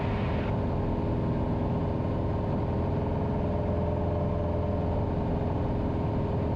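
A light aircraft engine drones steadily through the cabin while flying downwind, a loud continuous hum with constant low tones and no breaks.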